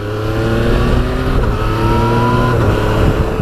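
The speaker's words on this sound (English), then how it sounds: "that triple engine's lost none of its shove either. It really does go when you open her up." A Yamaha Tracer 900GT triple-engine motorcycle accelerates hard, a loud, close, continuous engine drone that holds steady and rises slightly in pitch, with no talking.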